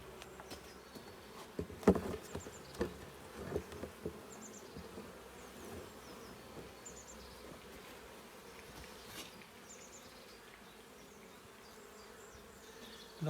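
Honeybees buzz softly around an open hive during a routine late-April inspection, a faint steady drone with a few brief knocks and handling clatters early on, no voices.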